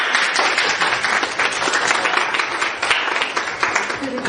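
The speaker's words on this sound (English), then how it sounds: "One applause, please." Children in an English lesson at a school classroom clap together, a dense, fairly loud patter of many hands that runs steadily for several seconds, with faint voices underneath.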